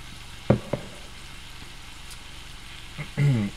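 Breakfast food sauteing in a pan in a makeshift home kitchen, a faint, steady sizzle running beneath a few brief bursts of talk.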